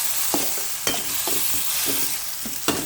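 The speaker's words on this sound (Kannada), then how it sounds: "ಈಗ ಈ ಒಗ್ಗರಣೆಲೆ ಇದೆಲ್ಲ ಚೆನ್ನಾಗಾಗುತ್ತೆ ನೋಡಿ." A tempering for mint rice sizzles steadily in a pan while a spatula stirs in several scraping strokes, close and loud, with no voices.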